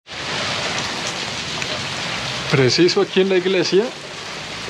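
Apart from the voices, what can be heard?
heavy rain downpour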